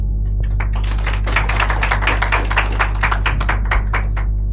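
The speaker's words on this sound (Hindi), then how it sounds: "तालियां तालियां तालियां।" A crowd at an open-mic storytelling night claps steadily, many hands blending into a continuous, fairly loud patter that lasts the whole stretch without any voices.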